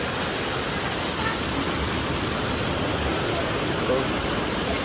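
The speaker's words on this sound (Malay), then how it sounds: "hari hujan lebat sekarang guys" Heavy rain pouring steadily at a beach resort, a dense, even hiss filling the whole stretch with no pauses, loud and close, with no clear voices standing out.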